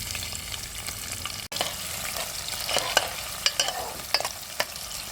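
Whole spices such as cinnamon, cardamom, bay leaf and fennel sizzle with onions in hot ghee, a steady frying hiss broken by several sharp scraping stirs of a spoon against the pan, close and alone.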